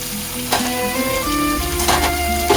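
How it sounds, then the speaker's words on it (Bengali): Salted chicken goes into a hot pan for chicken kosha, setting off a loud, steady sizzle of frying, with a few clattering stirs and scrapes close by. "এবারে আমি চিকেনটা দিয়ে দিচ্ছি।"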